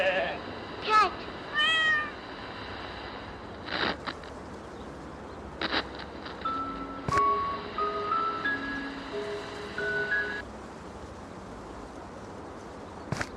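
Cartoonish cat meow in a VR room escape game's animal call memory challenge, a short rising call near the start followed by scattered game tones and chimes, with speech and sparse clicks around it.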